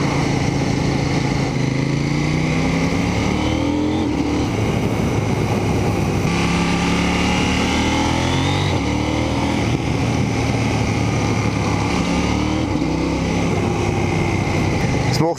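A KTM 790 Duke motorcycle engine drones loudly and continuously while riding through town, rising and falling in pitch as it accelerates and shifts, with someone speaking German over it.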